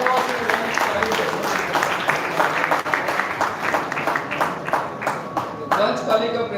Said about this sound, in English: Give a big round of applause to Vansh Kalekar